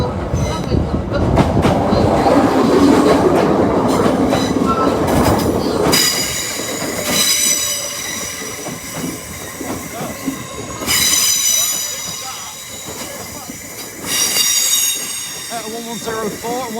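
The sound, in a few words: trains passing at Doncaster station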